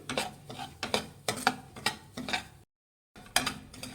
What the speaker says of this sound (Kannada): ರವೆ ಫ್ರೈ ಮಾಡಿ ಒಂದು ಐದು ನಿಮಿಷ ಲೋ ಫ್ಲೇಮಲ್ಲಿ ರವೆ ಫ್ರೈ ಮಾಡಿ